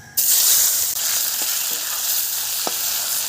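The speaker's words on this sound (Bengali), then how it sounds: "শুকনো লঙ্কা ফোড়নে দিয়ে দিলাম, তেজপাতা দিয়ে দিলাম, পেঁয়াজ দিয়ে দিলাম।" Dried red chillies, bay leaves and onion frying in hot oil give a loud, steady sizzle that starts abruptly and continues with a few faint stirring knocks, with no voices.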